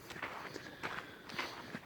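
Footsteps on an uphill dirt trail near the Bronson Caves, a steady walking rhythm of soft crunching steps, close and moderately quiet, with no talking.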